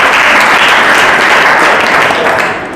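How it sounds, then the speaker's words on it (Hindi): Loud, sustained applause from a church congregation clapping together, filling the space steadily for nearly three seconds before tapering slightly at the end. "ताली बजाकर इसकी महिमा करें।"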